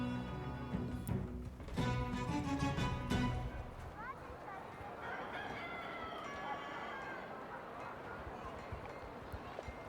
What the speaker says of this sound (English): I heard that rooster.